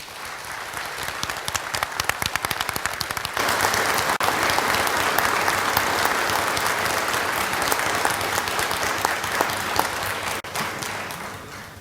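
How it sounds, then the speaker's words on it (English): Conference audience at an international UFO conference applauding after a presentation, sustained loud clapping that swells after a few seconds and stays full and even for nearly twelve seconds, with no voices over it. "Did you hear that applause?"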